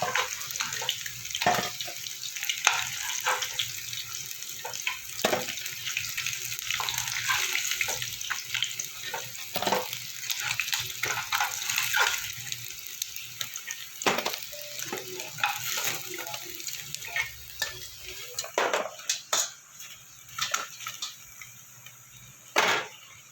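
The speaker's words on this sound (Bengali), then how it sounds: "মাছগুলো আমার ভাজা হয়ে গেছে" Rohu fish pieces fry in hot oil in a pan, a crackling, watery sizzle broken by repeated clinks and clatters of a utensil being handled.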